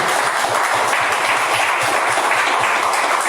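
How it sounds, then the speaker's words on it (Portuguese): A church congregation applauds during a worship service, loud, dense, sustained clapping from many people that fills the space evenly from start to finish. "Vamos aplaudir Jesus bem bonito."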